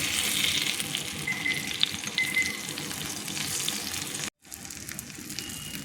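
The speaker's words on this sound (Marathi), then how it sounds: "आता आपण दुसरी साईड पण त्याची हे करून घेऊ, भाजून घेऊ छान." Stuffed green chillies frying in a pan, turned to cook the second side; a continuous soft sizzle with light clinks, briefly cutting out near the end, no talking.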